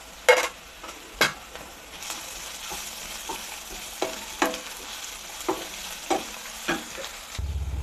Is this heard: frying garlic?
yes